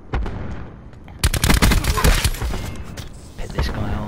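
Gunfire in a first-person shooter game: a few scattered shots, then a loud, rapid burst of automatic fire with booming impacts, a pause, and another short volley near the end.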